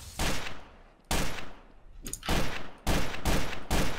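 Gunfire in a video game, repeated loud bursts of rapid shots separated by short pauses, close and dominant with no talking over it.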